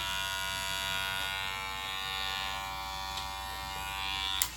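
A steady electric buzz from a Wahl Super Taper X hair clipper motor running continuously, close and even, with a small click near the end.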